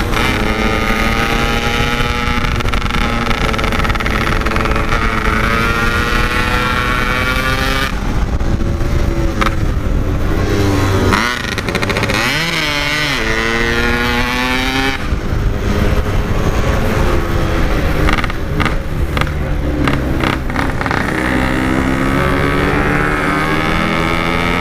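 Yamaha RX King motorcycle two-stroke engine revving hard and accelerating at night, loud and close, with rising and falling pitch sweeps as the throttle opens and gears change, continuous without talk.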